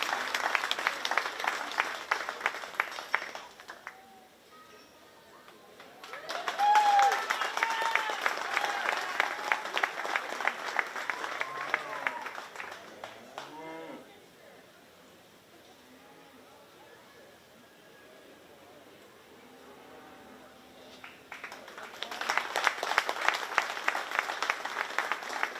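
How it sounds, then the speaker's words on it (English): Audience applause for 4-H beef cattle showmen at a county fair arena, two sustained bursts of steady clapping separated by a quieter stretch, with an announcer talking between them. "let's give them a big round of applause"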